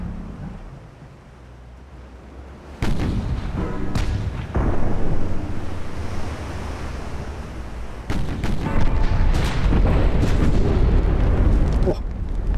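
Naval guns fire in the warship battle game Ultimate Admiral Dreadnoughts, several loud booming blasts rolling into sustained rumble and crackle, with a voice speaking over parts of it.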